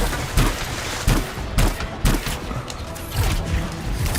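An enemy turret fires in the sci-fi action game Anthem, with heavy, booming shots repeating roughly every half second amid a dense backdrop of combat noise.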